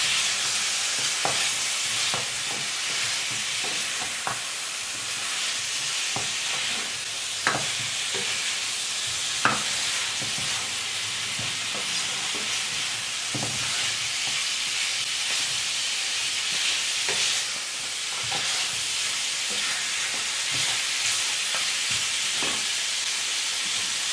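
Ribs stir-fry in a wok with light soy sauce, giving a continuous steamy sizzle and hiss, punctuated by frequent clicks and scrapes of a utensil stirring against the metal.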